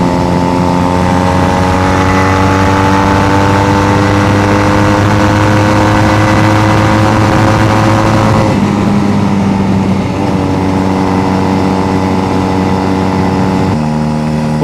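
A Honda Rebel bobber motorcycle engine runs loud and close throughout, a steady droning idle with a clear shift in pitch partway through, alone without voices.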